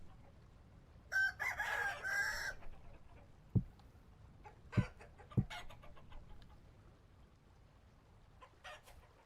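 Chickens in the video game Vintage Story, with a rooster crowing once near the start and then several short, sharp clucks spread apart over a faint background, and no one speaking.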